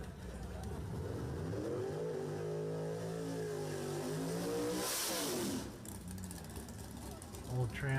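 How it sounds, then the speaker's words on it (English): An old Camaro at a Thursday night drag race revs hard, the engine pitch climbing and sliding through gears over several seconds before fading. Crowd noise and a voice are heard beneath it. "An old Camaro."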